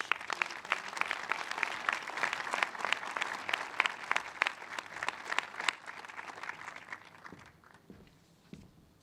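Sustained applause from a crowd, dense clapping that holds steady for several seconds and then thins out to scattered claps near the end.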